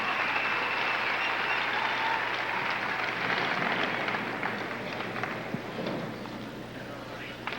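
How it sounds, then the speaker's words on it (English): An arena crowd at the 1989 Canadian Gymnastics Championships applauds after Larissa Lowing's routine, sustained broad clapping that holds steady and slowly thins toward the end, with a commentator talking over it. "the applause tells you that they enjoyed the routine of Larissa Lowing"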